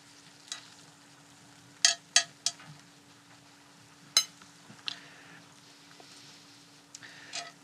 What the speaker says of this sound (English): I'm going to spoon this sauce over the top